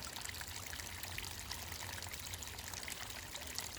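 Water trickling and rushing in a remote mountain stream in cold weather, a steady broadband wash that runs continuously and fairly near, with no voices.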